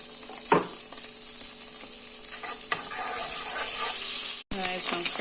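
Butter, olive oil and garlic fry in a pan with a steady close sizzle, broken by stirring scrapes and a brief clatter near the start, and a short dropout before the frying resumes.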